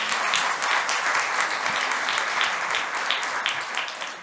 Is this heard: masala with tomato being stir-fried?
no